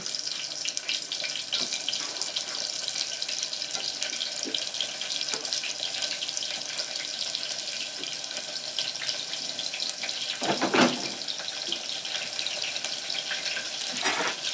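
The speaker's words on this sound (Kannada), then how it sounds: "ಈಗ ಚೆನ್ನಾಗಿ ಜೀರಿಗೆ ಎಲ್ಲ ಸಾಸಿವೆ ಎಲ್ಲ ಚಟಪಟ ಅಂತೈತೆ, ಅದಕ್ಕೆ ಈರುಳ್ಳಿ ಹಾಕ್ತಾಯಿದ್ದೀನಿ" Chopped onion going into hot oil with crackling cumin and mustard seeds, giving a continuous loud sizzle with spitting pops and a stronger surge of hiss about two-thirds of the way through.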